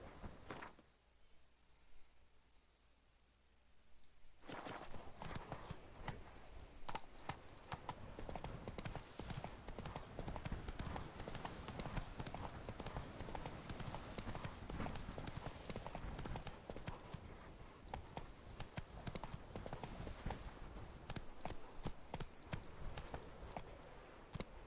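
A horse gallops in The Witcher 3 with rapid, continuous hoofbeats. They start suddenly after a quiet moment and pound steadily and loudly throughout, with faint game ambience underneath.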